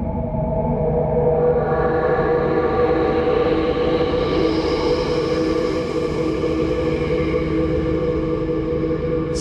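An ambient pad from the Soniccouture Geosonics library: a dense, steady wash of sustained tones over a broad rumbling bed, with a brighter shimmer swelling through the middle, loud and continuous throughout.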